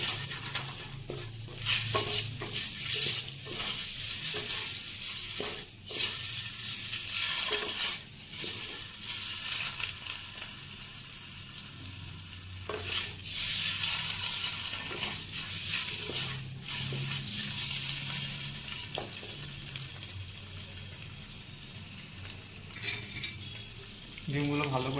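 Eggs fry in hot oil with turmeric for a homemade egg curry, a steady close sizzle and crackle with scraping stir strokes now and then, no voices.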